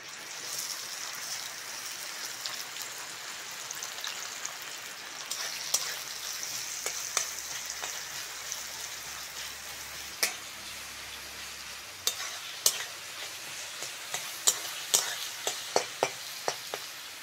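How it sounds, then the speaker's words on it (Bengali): Chopped onion frying in oil in a wok (kadai), crackling with a soft continuous sizzle and a growing run of sharp spatters and pops toward the end, with no talk. "তেলের মধ্যে কুচনো পেঁয়াজ দিয়ে দেবো"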